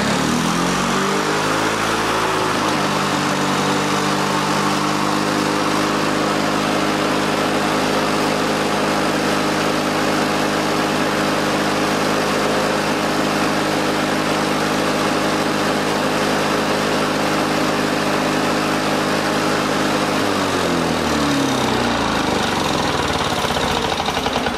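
An old Lawn Boy lawn mower engine, revived after sitting for 30 years, runs loud and steady near the listener, its pitch rising as it revs up and falling back near the end.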